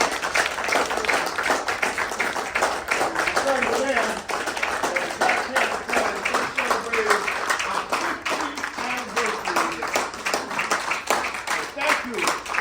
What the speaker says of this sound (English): Can we just applaud the Maysles?